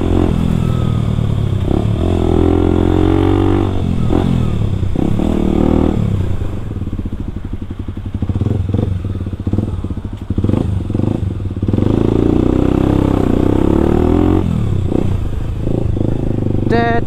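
A Kawasaki KLX 250 supermoto motorcycle rides over a rough, damaged road, its engine droning loudly and continuously with rough clattering and thumping from the bumps throughout.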